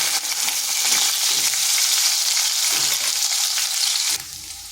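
Potatoes fry in hot oil in a pan, a loud, close, continuous crackling sizzle that drops suddenly near the end, with no voices over it.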